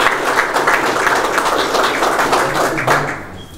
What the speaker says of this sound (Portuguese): na pessoa do Avelino Conceição, que também merece uma salva de palmas por este trabalho que está a fazer.